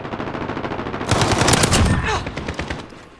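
Rapid bursts of PP-Bizon submachine gun fire in a video game, loud and sustained for about a second, then trailing off amid background game noise.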